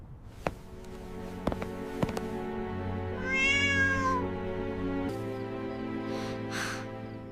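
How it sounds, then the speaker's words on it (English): A frightened cat lets out a drawn-out meow near the middle of the stretch, with a second fainter cry near the end and a few sharp knocks and taps before it. "The poor cat is scared"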